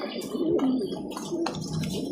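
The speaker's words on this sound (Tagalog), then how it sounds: "Ito yung mga ibon natin ha." Homing pigeons kept by a breeder cooing nearby, soft low throaty coos repeating over a steady background murmur.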